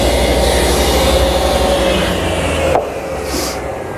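Router running continuously as it cuts slots in a plywood jig, a loud steady whine that drops abruptly near the end, followed by a brief fainter burst of noise.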